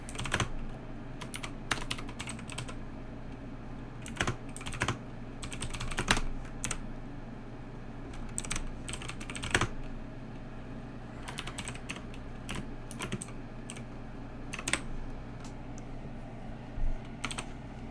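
Quiet, steady typing on a computer keyboard while C# code is written, with irregular bursts of clicky keystrokes and short pauses, heard close and alone.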